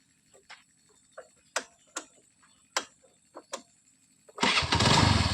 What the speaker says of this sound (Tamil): வண்டி ஸ்டார்ட் பண்ணுறேன் பாருங்கள். செல்ஃப் போடுறேன்.